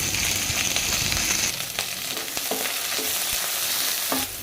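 Onions hit hot oil with fenugreek, mustard seeds, curry leaves and garlic for a fish kulambu, sizzling loudly and steadily near the mic, with a few scraping stirs and clinks partway through.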